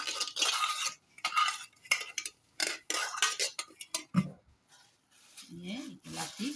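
Ingredients are worked together by hand in a bowl while preparing a katla fish curry, giving soft, irregular squelching and rustling bursts with a few clinks, fairly close, with brief voice sounds near the end.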